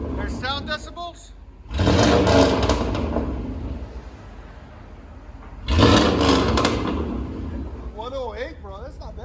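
Two loud throaty exhaust revs from a Chevy/GMC 1500 pickup's 5.7L V8, measured around 108 decibels, rise and fade, with people talking in between and after them.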